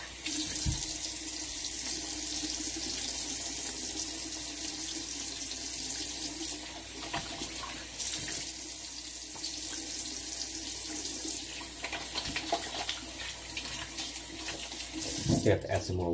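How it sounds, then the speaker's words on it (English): Tap water pours steadily into a sink for the whole stretch, a close, continuous rushing splash with small clatters near the end. "Cool water rinse."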